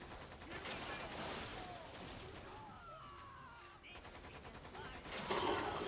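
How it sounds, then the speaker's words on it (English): Rapid bursts of video game gunfire pepper the player in Lost Planet 2, a dense crackle of automatic shots with impacts swelling louder near the end, under a busy game soundtrack. "I'm just getting peppered with bullets"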